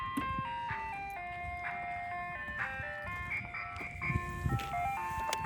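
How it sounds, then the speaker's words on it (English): An ice cream truck plays its jingle outdoors at a Padre Island, Texas beach campsite, a steady melodic tune of stepping electronic notes running throughout, clear and fairly near, with faint rumbling background noise. "Do y'all hear that? There's an ice cream truck."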